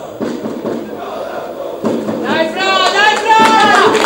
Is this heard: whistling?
no